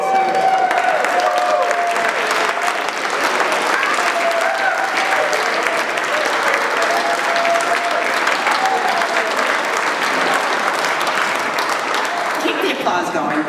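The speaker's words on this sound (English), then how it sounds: "keep the applause going, they're wonderful" A large crowd at an alumni association meeting claps steadily for more than ten seconds, with a voice speaking over the ovation.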